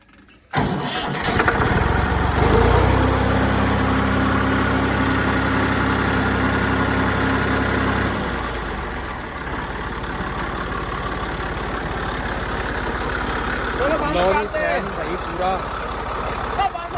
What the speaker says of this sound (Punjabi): ਮੈਂ ਟਰੈਕਟਰ ਤੇ ਵੀਡੀਓ ਬਣਾਵਾਂਗਾ ਸਟਾਰਟ ਕਰਕੇ ਦੇਖ ਲਈਏ